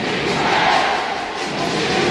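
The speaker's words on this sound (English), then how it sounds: "Again, the cry of defense from the crowd." Dense, loud roar of an arena crowd chanting defense at a Philippines versus South Korea FIBA Asia semifinal basketball game, a continuous wall of voices with no clear breaks.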